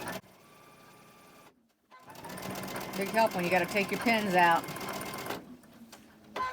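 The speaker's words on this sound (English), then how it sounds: "if you've got that knee lift on your sewing machine" An electronic sewing machine stitches quilt blocks in one quick run of a few seconds. The rapid, rhythmic chatter is close and clear, with someone speaking before and after it.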